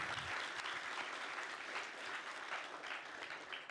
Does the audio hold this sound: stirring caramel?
no